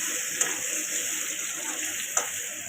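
Potatoes and eggs frying in oil for egg curry, a steady broadband sizzle with faint crackles and two brief pops, close and continuous.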